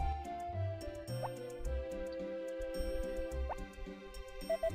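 Water pours from a watering can onto crops in the Harvest Moon video game as a run of bright dripping, plopping blips with short musical tones, set over soft game background music.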